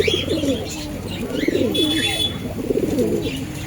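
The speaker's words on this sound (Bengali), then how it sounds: "পায়রার ডাক দেখুন আর পায়রার কোয়ালিটি দেখুন।" Pigeons in a bird shop cooing steadily, with repeated soft, throaty rolling calls layered over one another, close and moderately loud against a constant background hum.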